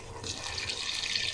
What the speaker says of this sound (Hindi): यहाँ थोड़ा सा पानी शामिल करूँगा इसके अंदर, सिर्फ मैं तकरीबन एक या पौना गिलास, ताकि थोड़ी गल जाए।